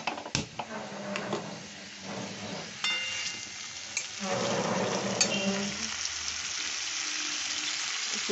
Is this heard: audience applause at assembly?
no